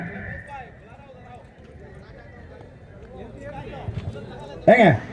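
Horses at a village horse race during a temple chariot festival in Anthiyur, with hooves clip-clopping and a sharp loud whinny near the end, heard under ongoing talk and crowd noise.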